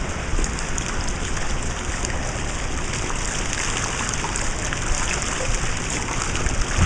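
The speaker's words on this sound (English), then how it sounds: "Look at that little waterfall coming off the glass sheet." A steady, close rush of water running off a glass sheet as a small waterfall splashes and patters continuously without a break.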